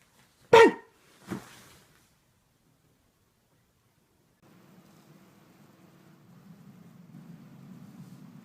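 Two short, sharp dog barks close by, the first louder, followed by quiet and then a low steady hum and rumble.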